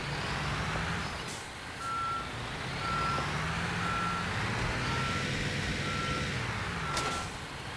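A dump truck in Construction Simulator reverses, its backup alarm beeping at a steady, even pace over a low engine rumble, the beeps fairly faint and distant.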